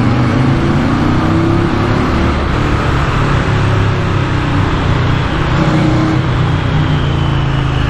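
An Indian FTR 1200 motorcycle engine runs steadily and loudly close by, a dense low rumble with no talk over it. It holds an even level throughout, with no obvious revving.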